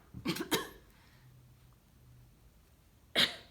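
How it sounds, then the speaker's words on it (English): A few sharp coughs up close: two quick bursts at the start, a quiet pause, then one more forceful cough. "I always have a little bit of a cough"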